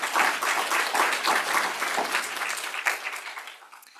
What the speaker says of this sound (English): give them one final quick round of applause